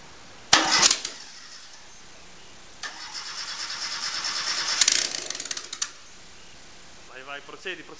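An engine cranking and catching on a quick start, then revved up in a long rising burst before dropping back, with a voice talking briefly near the end.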